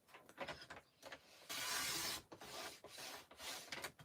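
A paper trimmer slides along a score line on craft paper, giving close, quiet rubbing and scraping strokes with one longer, louder swipe in the middle.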